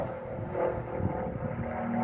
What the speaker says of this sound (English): Let's give it a moment for the airplane to pass.